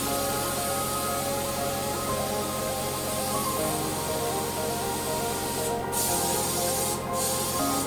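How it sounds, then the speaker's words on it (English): Spray gun applying Arctic white polyurethane paint to the lower body of a two-tone car dashboard over epoxy primer, a steady close hiss running throughout with a constant compressor-like hum beneath. "the major lower body was painted with Arctic white polyurethane paint"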